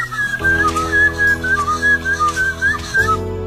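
Cattle herders whistle signals to their herd in a series of clear, loud, melodic whistled notes, rising and falling in short phrases, heard close and alone.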